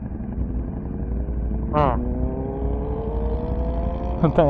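A motor vehicle engine hums in the background at night, with a brief rising whine of a passing scooter and another beginning at the end.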